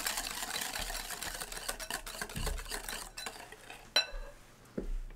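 Egg yolks and sugar being whisked together in a bowl while preparing a gâteau au chocolat: a steady, close scratchy swishing of the whisk against the bowl, with a few sharper clinks toward the end.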